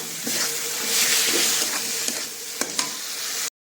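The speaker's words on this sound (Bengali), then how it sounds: "এবার আলুগুলো দিয়ে দেবো। আলুগুলো দিয়ে আবার কতক্ষণ কষাবো।" Potatoes sautéing in a pan with a fish curry base, a steady close sizzle with stirring and a couple of sharp clinks of utensil against pan before cutting off abruptly.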